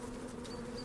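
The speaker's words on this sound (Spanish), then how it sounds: "Las abejas quieren abandonar la colmena" Steady, dense buzzing of honeybees inside a hive, a continuous low drone with no pauses, fairly faint and heard alone.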